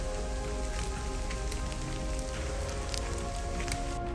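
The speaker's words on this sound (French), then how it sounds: "Là, je ne me doutais pas que j'allais passer 10 heures de marche sous la pluie." Steady rain falls on a hiking trail on Madeira, a constant dense patter close by with scattered louder drops and no voices.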